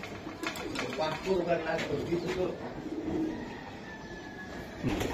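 Racing pigeons coo in soft, repeated low murmurs, a few calls spread across the span, with someone talking over them at close range.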